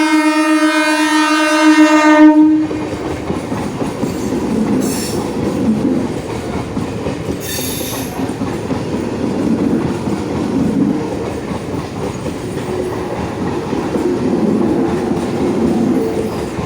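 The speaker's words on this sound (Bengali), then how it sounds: "আর 6:15 ট্রেনটা আরামবাগ থেকে বেরিয়ে হাওড়া যাচ্ছে" A passenger train near a level crossing blasts its horn in one loud sustained note, then rumbles past with a steady roar and rattle of the wheels that continues throughout.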